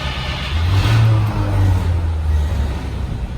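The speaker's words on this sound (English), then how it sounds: "We're going to start it up, play with a few things, and take it for a spin" A 1953 Cadillac Series 62 Convertible engine turns over and catches, swelling into a loud close rev before settling into a deep, steady idle rumble.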